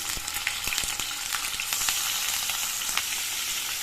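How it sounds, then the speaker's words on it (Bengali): Pieces of katla fish fry in a pan of hot oil with a loud, continuous sizzle and dense crackling spatter, close up and with no voices. "মাছগুলো আমি ভেজে নেব"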